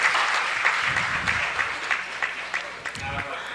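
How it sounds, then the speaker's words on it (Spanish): Applause at a city council meeting, a roomful of people clapping steadily and fairly close, with a few voices briefly audible beneath it. "otro gran aplauso."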